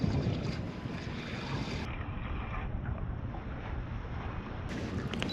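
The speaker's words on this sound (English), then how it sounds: "Wind. Hate it." Strong wind blows outdoors on the water while fishing for flathead, a steady, loud, close roar buffeting the microphone throughout, with no talk.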